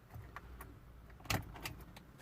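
A key slides into the ignition slot of an Audi S5 4.2 V8 with a single short metallic click and rattle, close by, amid quiet cabin background and faint handling noises.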